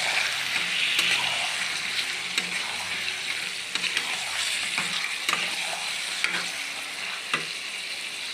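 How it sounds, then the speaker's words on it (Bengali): Chicken pieces fry in oil while being stirred, with a bright, continuous close sizzle broken by occasional scraping knocks of the utensil. "এবার মাংসটা আমি তেলে কিছুক্ষণ ভেজে নেব।"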